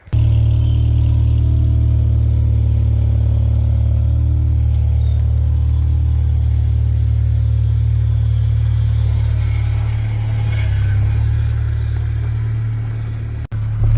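A winter beater car drives along at sunset, its engine giving a steady loud low rumble throughout with continuous road and cabin noise and no talking.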